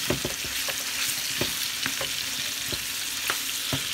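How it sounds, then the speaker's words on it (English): Sweet Italian sausage and onions sizzle steadily in a pan, a close continuous frying hiss broken by repeated clicks and scrapes of stirring at irregular intervals, with no voices. "So what I want to do is get most of this cooked, and I want to add my onion."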